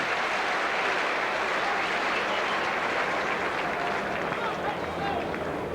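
A rugby league crowd applauds a Sheffield Eagles try against Widnes. The clapping is dense, continuous and loud, spreading over the whole stretch as a steady wash of applause with no break.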